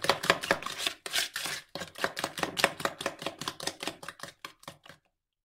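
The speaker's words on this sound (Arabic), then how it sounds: "نخلط المكونات هذه كل مع بعضها بالمغرفه" Dry dough ingredients, including salt, sugar and yeast, are mixed with a ladle in a bowl, a rapid run of close scraping, knocking strokes for about five seconds before it stops.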